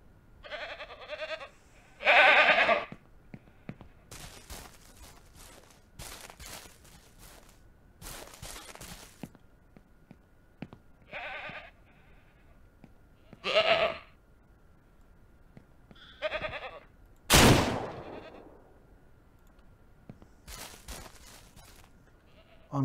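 Goats bleat in scattered, wavering calls at varying distances, separated by quiet stretches, with one sharp loud burst midway, in the video game Ranch Simulator.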